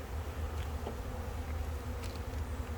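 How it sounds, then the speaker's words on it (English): Honey bees hum in a single hive box during a winter pack-down, a steady low drone close by with occasional faint higher buzzes, no voices. "there's plenty of bees for a single box"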